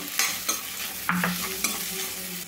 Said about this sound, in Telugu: ఉల్లిపాయ ముక్కలు ఫాస్ట్గా లైట్గా వేగుతాయి